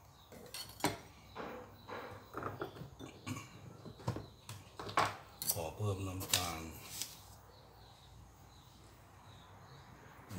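A spoon clinks and scrapes against a bowl while salad dressing is mixed for a spicy Thai fermented pork and crispy rice salad, with a quick series of close, bright taps that thin out into a quieter background.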